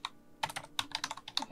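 Quick bursts of computer keyboard typing: a short tap, a brief pause, then a rapid, irregular run of close, crisp keystrokes.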